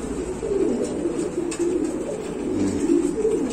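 Pigeons at a pigeon house coo in soft, low, repeated throaty rolls, several birds close together in a steady murmur with no talking.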